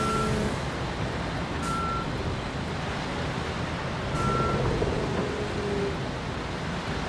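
A construction vehicle's reversing alarm in Bau Simulator gives a few spaced, steady beeps over a constant heavy engine rumble.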